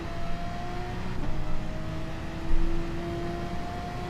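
A race car engine in GT Sport at Spa in the rain holds a steady, droning tone as the driver feeds in power, with a brief shift in pitch and a short louder surge midway through.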